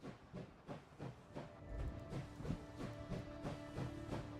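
A train rolls along in a video game, with a steady rhythmic clatter of wheels over track joints, a low rumble and a soft hiss of steam running throughout.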